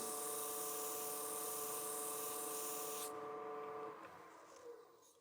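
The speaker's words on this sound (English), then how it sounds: "I'm going to drop back to my 240 grit, sand that surface one more time." Close, loud broadband sanding hiss with a steady machine whine, from 240-grit abrasive held against a turned wooden box spinning on a woodturning lathe; the sanding stops about three seconds in, leaving the lathe running quieter until it winds down.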